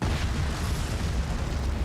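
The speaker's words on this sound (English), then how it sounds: "a second explosion ripped through the site." Explosion at a site where explosives had already gone off, a sustained dense roaring blast filling the whole clip, loud and close with no speech over it.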